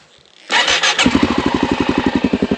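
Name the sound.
motorcycle engine starting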